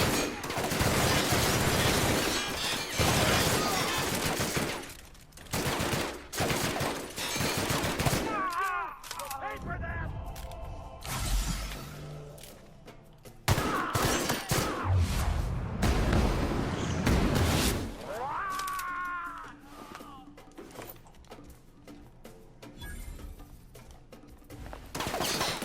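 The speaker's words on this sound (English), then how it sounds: "Like I'm in a major gun battle right now." Heavy gunfire from a major gun battle in the video game The Outer Worlds, with dense bursts of automatic fire and shots layered with explosive booms, loud and sustained with only brief lulls throughout.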